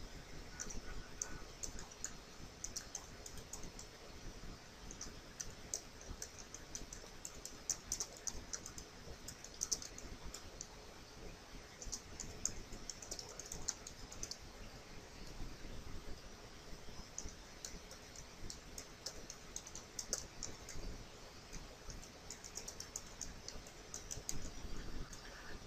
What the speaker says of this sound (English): Now let's type this in.